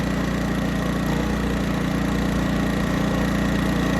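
Honda generator with a hard-starting fuel problem idles steadily while warming up during carburetor mixture adjustment, a continuous close mechanical drone with no talk.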